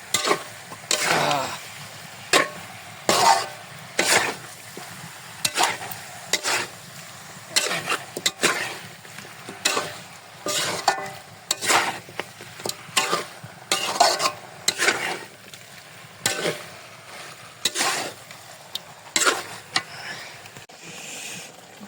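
Meat and spices stirred in a pot with repeated scraping strokes in a steady rhythm, close and fairly loud, a soft sizzle underneath and a brief voice now and then.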